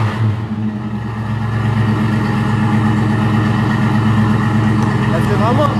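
A V8 engine with a four-speed manual gearbox runs steadily and loudly up close, a continuous deep drone with a faint voice beneath it.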